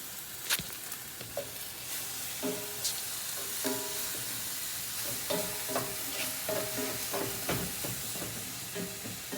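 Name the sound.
brisket searing in a pan with browning sugars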